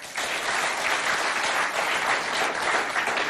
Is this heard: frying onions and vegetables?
no